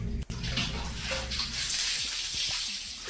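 Water sloshes and splashes in a bathtub, a steady washing rush with a few sharper splashes, close and continuous throughout.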